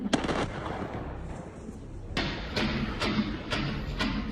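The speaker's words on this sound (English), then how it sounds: "a series of explosions hit the country's capital, Caracas, overnight" A string of sharp explosive bangs in Caracas, Venezuela, about five, spaced roughly half a second apart after a rumbling start, echoing like distant blasts or fireworks.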